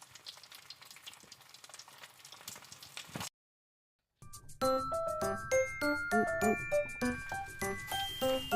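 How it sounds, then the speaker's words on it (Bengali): Tomatoes sizzle in a frying pan for paneer masala, a steady crackling hiss for about three seconds. Silence follows, then a run of bright chiming tones. "টমেটোটা ভাজা ভাজা হয়ে গেছে"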